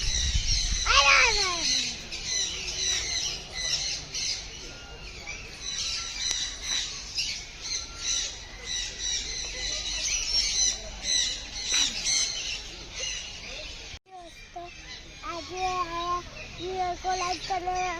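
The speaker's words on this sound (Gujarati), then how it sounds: "તમને આ ઝાડ ઉપર અવાજ આવી રહ્યો છે કે અહીંયા કનૂર બેઠા છે." Conures squawk from a tree in an aviary, with harsh, repeated calls close by, overlapping and continuing throughout alongside other bird chatter.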